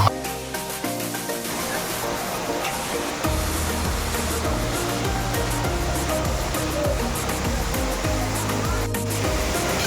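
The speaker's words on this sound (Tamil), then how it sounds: "இதுதான் வாட்டர் ஃபால்ஸு." Near the waterfall at Yercaud in Tamil Nadu, rushing water makes a constant broadband roar, loud and close, with the tone shifting a little partway through and no distinct voices.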